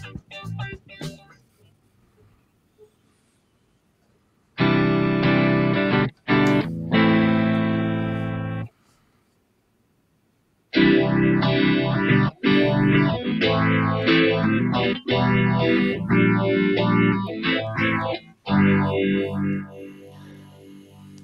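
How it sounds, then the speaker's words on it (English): A phaser effect unit is played through a synthesizer setup, with loud sustained tones swept by a swirling phase modulation in two long passages separated by a brief silence. "It's a phaser."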